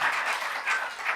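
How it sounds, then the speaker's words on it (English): Short burst of audience applause at an African public health conference, moderately loud and fairly even, with the clapping swelling slightly toward the end. "Please, another round of applause as we support the partnerships."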